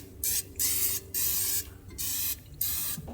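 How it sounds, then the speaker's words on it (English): Four bursts of cooking spray hissing from a can onto a CanCooker, each about half a second long, close and loud with short gaps between. "got to coat this CanCooker with some cooking spray"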